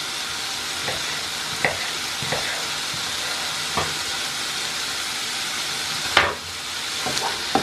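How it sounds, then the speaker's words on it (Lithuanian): Smoked bacon sizzling steadily in a pan while being stirred, with a continuous close fry hiss broken by occasional scraping clicks and one louder clatter. "Maišom šoninę."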